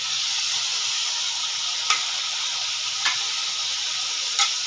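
Masala with leftover bone stock and meat sizzling steadily in a pan, a loud continuous fry with three sharp stirring clinks spaced out over the sound.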